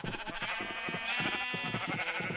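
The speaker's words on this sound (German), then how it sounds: "Ich habe Schafe." Sheep in the Minecraft video game bleat repeatedly in a steady, overlapping chorus, fairly loud and close, with no talking.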